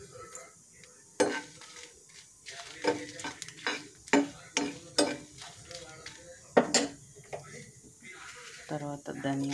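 Dried red chillies frying in a couple of spoons of hot oil for a mango pickle, with scattered crackles and sharp scrape-and-stir clatters of a spoon against the pan, fairly close, while a voice talks intermittently.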